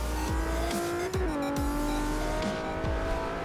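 A Ferrari F50 races in Forza Motorsport 5, its high engine whine rising and falling through gear shifts, steady and loud with no voices.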